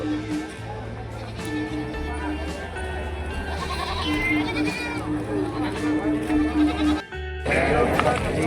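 Goats and sheep bleat repeatedly at a busy Monday livestock market in Kittur, Belagavi, Karnataka, loud and close, with voices of traders talking throughout.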